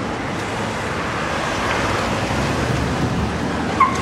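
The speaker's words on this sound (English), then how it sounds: "There's a lot of wind here right now. A lot of wind." Strong outdoor wind roars steadily against the microphone on a street in Tacoma, Washington, a broad, constant rushing with faint traffic beneath and no speech.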